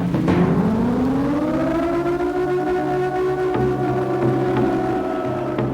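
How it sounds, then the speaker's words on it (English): A rising, wailing siren built as a fear-inducing sound effect for a PlayStation 2 horror game demo, swelling in pitch over the first second and then holding a long, loud, steady howl with a low drone beneath. "I worked hard to make sounds that express fear, especially the sound of the siren."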